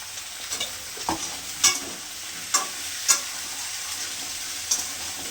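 Garlic, onion, ridge gourd, drumstick stalks and chopped tomato fry in a pan for a vegetable masoor dal. A soft, constant sizzle is broken by a few sharp stirring scrapes.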